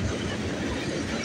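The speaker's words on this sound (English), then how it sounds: "Look at all the Burlington Northern Hoppers." A freight train rolls past hauling Burlington Northern hopper cars, a steady close rumble with broad rail noise filling the short stretch at constant loudness, no voices.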